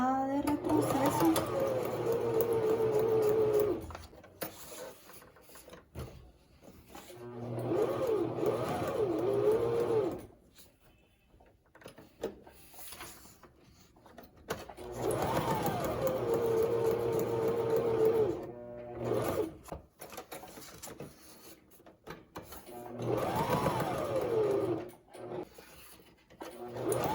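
A sewing machine running back stitch practice in bursts, its motor whirring steadily for several seconds at a time with short pauses between runs, while a voice speaks in the gaps.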